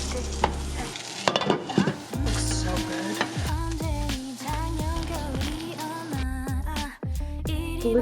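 Kimchi tuna melt frying and being stirred in a pan, a steady loud sizzle with scraping stirs across the whole stretch, close up, while music plays underneath and no one talks.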